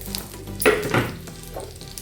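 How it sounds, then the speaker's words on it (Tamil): Aloo paratha fries in ghee on a pan with a brief burst of hissing sizzle, close and fairly loud, swelling in two quick surges and then settling into a quieter crackle. "இப்போ இதில் நெய் போட்டுக்கோங்க, ரொம்ப நல்லாயிருக்கும்"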